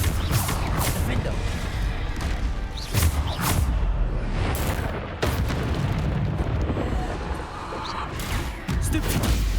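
Bombarda spell blasts in the video game Hogwarts Legacy, a run of heavy booming impacts and crashes over continuous loud battle noise, with voices briefly mixed in.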